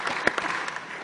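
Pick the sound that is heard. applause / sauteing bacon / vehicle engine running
applause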